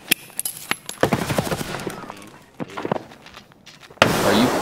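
Several bursts of close-range gunfire in Escape from Tarkov, in an indoor close-quarters fight, with sharp shots scattered through and a louder noisy stretch near the end.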